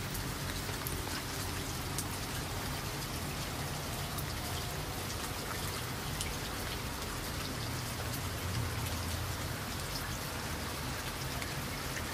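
Light rain falls steadily on a Singapore morning, an even, dense patter of drops on surfaces, continuous and moderately quiet with no talk or thunder.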